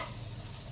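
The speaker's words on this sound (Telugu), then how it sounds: "ఫ్రై వేగుతుంది." Sheelavathi fish fries in a pan for Nellore-style fish curry, making a dense, continuous sizzle that is close and steady over a brief moment, with no talking.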